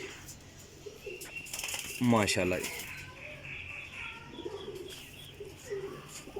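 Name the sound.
pigeons cooing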